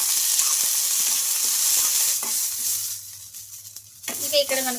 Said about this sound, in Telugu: ఈ పుదీనా కూడా వేసుకొని ఒకసారి బాగా కలిపేసుకుందాం